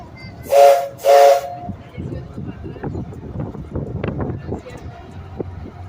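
Two sharp blasts of a train whistle sound close together as the Superstition Scenic Railroad train sets off, followed by low rumbling and clattering noise with faint voices in the background.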